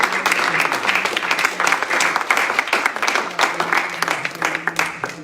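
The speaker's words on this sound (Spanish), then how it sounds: "Dale un aplauso al Señor, hermano." A Spanish-speaking church congregation applauds the Lord during a sermon, steady dense clapping from many hands filling the room, loud and continuous throughout, with some voices mixed in.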